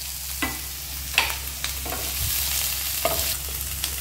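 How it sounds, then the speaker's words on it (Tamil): A soya stir-fry sprinkled with coriander is stirred in a hot pan. A soft sizzle runs underneath, broken by several distinct scraping strokes of the spoon against the pan, close up with no talking. "இப்போ கொஞ்சம் கொத்தமல்லி தூவி கிண்டி இறக்கிடலாம்."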